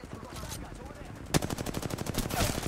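Rapid automatic gunfire in Apex Legends, a sharp burst followed by a steady stream of evenly spaced shots at close range, with quieter game noise before it.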